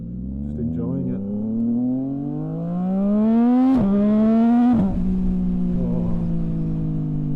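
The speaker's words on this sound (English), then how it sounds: "This 675, you know, it is a 3-cylinder, but it bloody pulls. It pulls real good, especially now with the exhaust." A Triumph 675 three-cylinder motorcycle with an aftermarket exhaust pulls hard, its engine note climbing steadily through the revs with two brief dips at gear changes, loud and close throughout, with a rider's brief exclamation.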